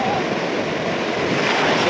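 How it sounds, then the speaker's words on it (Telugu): Ocean surf roaring steadily with wind buffeting the microphone, a broad continuous wash of crashing waves. "బాగా పోతుంది వస్తున్నాయి పెద్ద పెద్ద అలలు"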